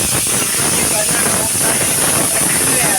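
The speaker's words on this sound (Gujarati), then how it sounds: "કુકરની સીટી વાગી રહી છે" A pressure cooker whistles while a vegetable curry of eggplant and potato cooks in a Kathiyawadi kitchen, giving a loud, continuous hiss of escaping steam that runs steadily throughout.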